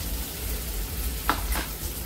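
Onions sautéing in a pan over a medium flame for kurma puri give a steady soft sizzle, with a couple of brief stirring scrapes near the end.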